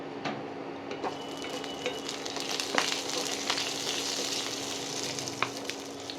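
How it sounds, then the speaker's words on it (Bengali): Panch phoron and a whole dried red chilli sizzle in hot oil, a steady close frying hiss dotted with sharp pops and crackles of bursting seeds, with no talking. "হাফ চামচের মতো পাঁচফোড়ন দিলাম। একটা গোটা শুকনো লঙ্কা ফাটিয়ে দিলাম।"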